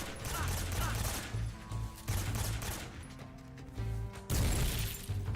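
Gunshots in Metal Gear Solid 3: Snake Eater come in loud, rapid bursts broken by short gaps, with other game sounds between them and a voice talking briefly.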